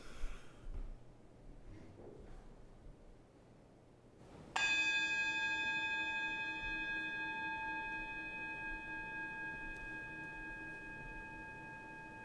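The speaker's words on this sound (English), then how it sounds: "As we follow the sound of the bell into silence" A single bell struck once during a Unitarian Universalist service, ringing out with a long, clear sustained tone that slowly decays toward silence, alone in a quiet room.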